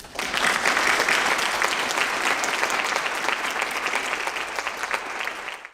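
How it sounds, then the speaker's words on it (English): An audience at an annual gathering gives a round of applause, a full, even wash of many hands clapping close and loud for several seconds before cutting off. "So let's give them a round of applause."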